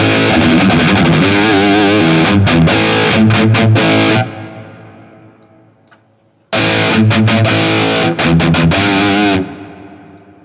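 Heavily distorted electric guitar from a Harley Benton Fusion played through a Nux MG-30 5150 high-gain amp model, loud chugging riffs with sharp palm-muted stabs, a sustained chord decaying into near silence, then another dense burst of riffing.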